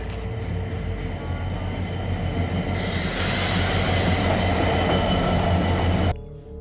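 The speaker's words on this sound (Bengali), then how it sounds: "আমাদের ট্রেনটা আমাদের ঢাকার উদ্দেশ্যে রওনা দিল" A train departing a station, bound for Dhaka, rumbles steadily with a constant metallic drone and a rising high-pitched wheel squeal before the noise drops off abruptly, loud and close.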